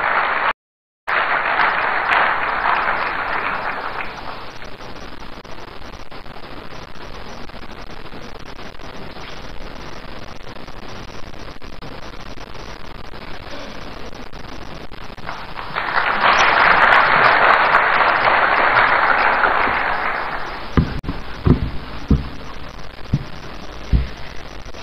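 A crowd applauds the host MP at a political event in Accra, Ghana, a steady wash of clapping with louder swells near the start and again later, ending in a few sharp close claps.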